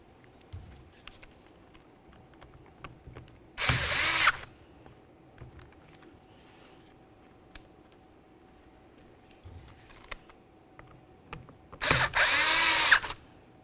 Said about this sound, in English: Continue on with your two T20 Torx head screws.